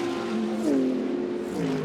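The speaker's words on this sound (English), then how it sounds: "as Thomas Preining heads towards the checkered flag and wins" A Porsche DTM race car at the Norisring crossing the finish line, its engine note holding steady then bending upward and dropping as it passes, loud and close, with no talk over it.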